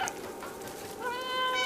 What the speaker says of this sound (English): There's a meow button.